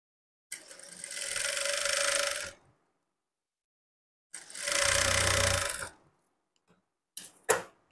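A sewing machine stitching lining and main blouse cloth together runs in two steady bursts of about two and three seconds each, near and fairly loud, with a few brief clicks after the second run.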